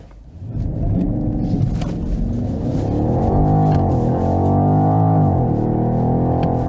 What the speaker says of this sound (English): you can also listen to the V8 sound